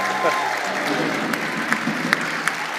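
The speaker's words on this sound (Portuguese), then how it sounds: "uma salva de palmas" Steady audience applause during a talk show with a host, dense and continuous, with a few sharper individual claps standing out and faint voices mixed underneath.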